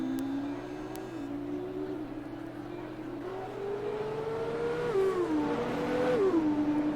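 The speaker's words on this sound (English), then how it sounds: "With those cars backfiring" F2 race cars in a racing video game on the Vietnam circuit hold a steady high engine whine that climbs and drops as they shift gears, revving throughout, under faint commentary.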